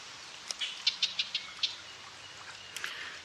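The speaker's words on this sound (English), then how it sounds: "there's a red-winged blackbird." A red-winged blackbird calls in a garden, a short run of bright, rapid chirps and notes heard at a moderate distance, with a few fainter calls after a pause and light outdoor background hiss.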